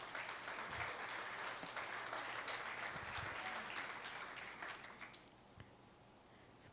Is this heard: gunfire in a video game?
no